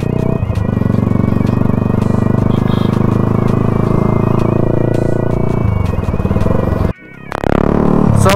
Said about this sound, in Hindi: आप लोगों को थोड़ा थोड़ा सुनाई दे रहा होगा एग्जॉस्ट का साउंड।